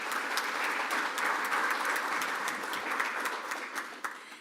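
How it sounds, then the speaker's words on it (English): Steady applause from a Rotary Club of Tulsa audience, a dense, even patter of many hands that holds at a moderate level throughout before tapering slightly at the end. "let's give her a round of applause"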